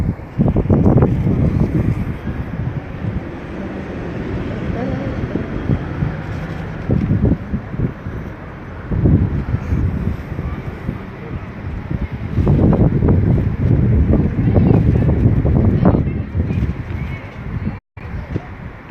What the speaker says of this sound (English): Apparently no one can hear it for the wind.